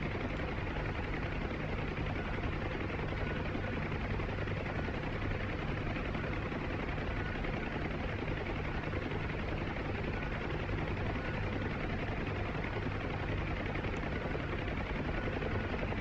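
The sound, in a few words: Huey helicopter flying, from video game DCS World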